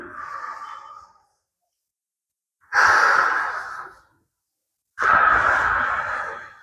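Heavy breathing during a bench press chest workout: three loud, close breaths, each a long airy rush that fades out, separated by short silent pauses, with no talking.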